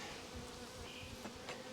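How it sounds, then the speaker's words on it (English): Honeybees buzz as they are shaken off a capped honey frame, a dense steady hum of many wings close by with small bursts rising over it. "Shake the bees off."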